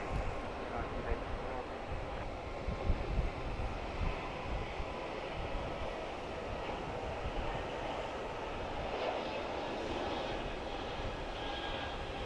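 Jet aircraft at Boston Logan Airport, likely an airliner taking off, gives a steady broadband roar that runs throughout, fairly distant and even in level with no talk.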